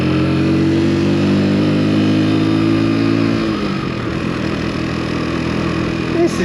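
A four-year-old Keeway Superlight motorcycle engine hums loud and close, its steady tone dropping in pitch as it shifts up through the gears, then settling into a lower, rougher drone.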